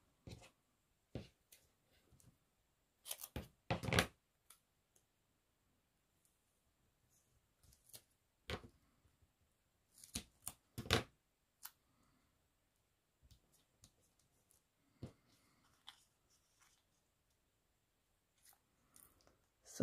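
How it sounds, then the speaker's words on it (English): Double-sided tape being pulled and pressed down to stick card packaging in place for a flat shaker card, heard as scattered close clicks, crinkles and short tearing snaps with quiet gaps between them. "I'm going to use some double-sided tape"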